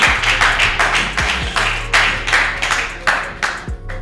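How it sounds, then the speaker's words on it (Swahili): Audience clapping for the guest Feno Boy during a studio interview, a steady round of claps with rhythmic surges that rise and fall over several seconds, fairly loud and close. "Makofi makubwa kwa Feno Boy tafadhali"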